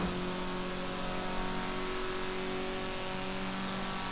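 Honda Civic RS engine in Forza Horizon 4 holds a steady, buzzy mid-pitched drone with a slight rev swell, sounding thin like a lawnmower, continuous and fairly close with no talk.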